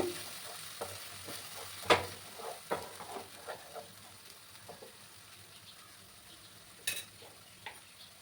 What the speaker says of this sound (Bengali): এবার ভালো করে মিক্স করে একটু সময় কষিয়ে নেব